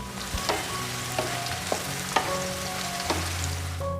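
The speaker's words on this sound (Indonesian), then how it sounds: "ini akan kita goreng sampai bawangnya kering" Onions for sambal terasi fry in a pan with a steady close sizzle, punctuated by repeated scraping knocks of a stirring utensil against the pan.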